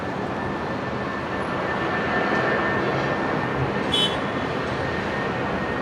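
A Jetstar airliner bound for Sydney moves across Brisbane International Airport, its jet engines producing a steady, moderately loud roar that swells slightly midway, with no talking.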